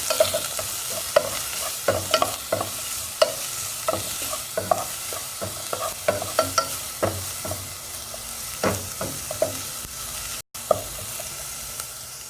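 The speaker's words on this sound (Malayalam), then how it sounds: "ഇതൊന്ന് നന്നായിട്ട് വഴറ്റിയെടുക്കാം" Crushed ginger and garlic sauté in a pan for a coconut milk fish curry, a low continuous sizzle broken by frequent sharp scrapes and clinks of a spatula stirring, close and fairly loud with no voices.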